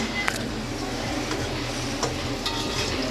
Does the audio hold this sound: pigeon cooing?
no